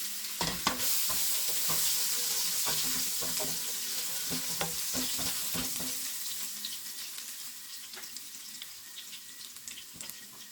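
Garlic sizzles and crackles in used frying oil left over from frying fish, a steady close hiss with scattered pops and stirring clicks that slowly settles over ten seconds, with no talking.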